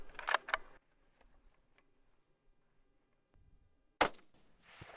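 A 6.5 Creedmoor rifle firing a 129 grain CX copper bullet gives one sharp, loud crack, then a quiet pause and a second distinct report that trails off briefly, with no voices.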